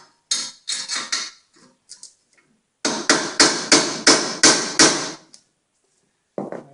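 A hammer taps a socket while reinstalling a rear trailing arm bushing on a BMW E46, giving sharp metallic strikes: a few quick hits, a pause, then a steady run of about seven evenly spaced blows, close and loud.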